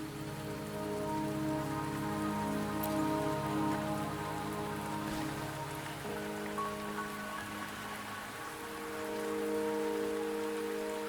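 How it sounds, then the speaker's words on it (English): Steady rain pours across the landscape of the video game Wuthering Waves, a dense continuous hiss with no talk, layered over a sustained tonal musical drone. "The rain won't last much longer."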